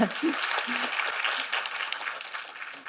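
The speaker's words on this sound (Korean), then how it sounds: "아이고 박수" Audience applause at a Korean lecture stage talk on adoption, a moderate wash of clapping with a brief voice and laughter mixed in near the start.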